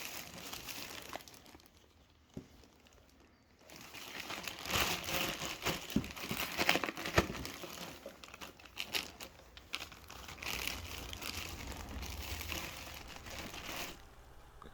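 Plastic or foam packaging on an aftermarket 3.5-inch car downpipe for an EA888 Gen3 engine being crinkled and tugged free of an O2 sensor bung, with close rustling and crumpling bursts, steady through most of the stretch.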